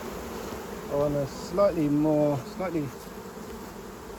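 Honey bees buzz around hives in a botanical garden, a close, wavering drone that swells and falls in a few bursts while a person talks nearby.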